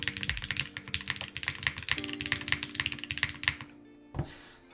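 Close, rapid typing on a 60% mechanical keyboard with Cherry MX2A switches, a fast run of clacky keystrokes and a thocky spacebar press near the end.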